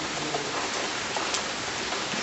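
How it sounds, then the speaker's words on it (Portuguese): Steady heavy rain falls during a wet Easter spell in Brazil's Northeast, an even close hiss of drops on surfaces with no talk. "ontem passou a tarde e a noite, aliás, até umas 8 horas chovendo, e começou agora na madrugada e ainda tá assim"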